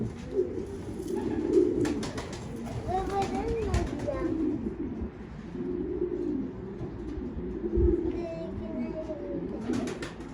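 Several soft pigeon coos repeat over steady background chatter and voices, with occasional faint bird chirps in the distance.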